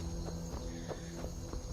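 Horse hooves clip-clopping in Skyrim: a steady, evenly spaced walking rhythm of soft thuds, about four hoofbeats over an ambient outdoor drone, with no talk.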